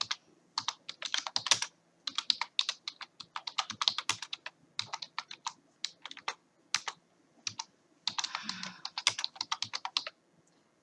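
Rapid typing on a computer keyboard while entering commands to compile Minecraft server source files, with dense bursts of clicking keystrokes separated by brief pauses, close and clear with no talking.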